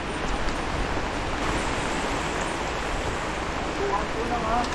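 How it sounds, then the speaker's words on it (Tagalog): Steady, dense hiss of rain on a climbing road in Quezon province, Philippines, fills the whole stretch, a constant wash of noise without pauses. "Umuulan pa."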